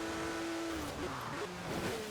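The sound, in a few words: Porsche Macan engine and tires in video game Forza Horizon 4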